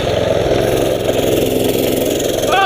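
Mini bike engine running steadily and loud, a continuous buzzing drone with slight rhythmic pulsing throughout.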